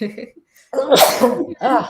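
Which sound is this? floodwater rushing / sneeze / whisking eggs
sneeze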